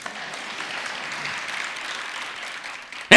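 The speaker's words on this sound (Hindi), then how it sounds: "सही है तो ढंग से ताली बजा।" An audience at a Hindi sermon claps in a soft, continuous patter of applause, ending with a sudden loud burst right at the close.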